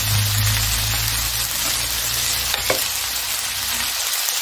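Shrimp fried rice frying in a pan, a loud, steady close-up sizzle with a brief stirring scrape partway through, no voices.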